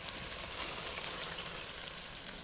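Mutton pieces dropped into a pan of spice paste thinned with a little water, giving a steady, close, loud sizzle and crackle throughout with no talking.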